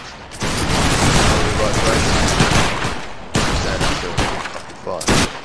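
A line of muskets fired in a ragged volley in Battle Grounds III, a loud crackling burst of overlapping shots that rolls on for seconds, followed by scattered single reports, with voices shouting orders over it.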